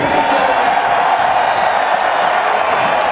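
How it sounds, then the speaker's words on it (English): Loud, dense applause from a crowd at a college football awards ceremony honoring a Michigan defensive lineman, a steady wash of clapping with cheering mixed in, continuous throughout. "a big round of applause for Michigan's 2009 Defensive Lineman of the Year, Brandon Graham"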